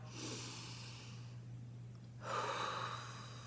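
A person takes a slow, deep breath in two parts: a long airy inhale, a short pause, then a second breathy draw, close and quiet over a faint steady hum.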